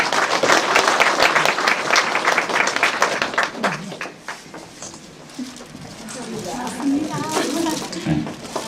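A crowd at a Hamyang arts association year-end gathering claps loudly and thickly for a few seconds. The applause then thins out and voices talk nearby, with scattered handling noises.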